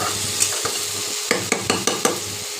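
Water poured into a pan of egg poach curry sets off a loud, close sizzle, with a few sharp clinks and scrapes of stirring over a constant frying hiss.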